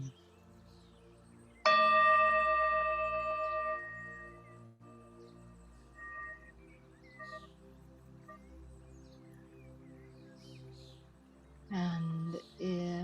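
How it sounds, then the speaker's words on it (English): A single bell is struck once, clear and ringing, and its tone dies away slowly over several seconds during a healing prayer circle. Faint talk and other soft sounds follow, and then a brief second chime near the end. "I'm going to ring the bell."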